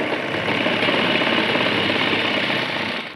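A sewing machine runs continuously while stitching a palazzo seam, a fast, even mechanical whir and rattle close up that stops at the end.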